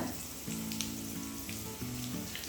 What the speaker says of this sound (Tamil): காஞ்ச மிளகாய், இது எல்லாத்தையும் ஒரு ஃபியூ செகண்ட்ஸ்க்கு நல்லா வதக்கிக்கணும்.